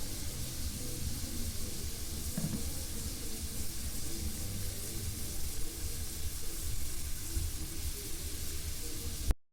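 A spice paste of chili, turmeric, coriander and cumin powders mixed with water sizzles and hisses steadily as masala for chana masala is sautéed in a pan, constant and close with no talking.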